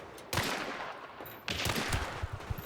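Pistol fire from a Dolch in the game Hunt: Showdown, two sharp, loud bursts followed by a run of quick repeated shots close by, with no voices.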